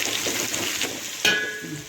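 Onions frying in oil in a pan for a vegetable shahi biryani, a steady close hiss and sizzle with a brief stir or clatter near the end.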